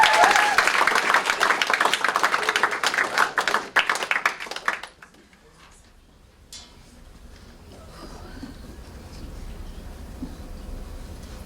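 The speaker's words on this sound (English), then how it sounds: "Let's give her a big round of applause." Audience applause at a live show, loud and dense clapping for about five seconds, then cutting off abruptly to a quiet room with faint murmur.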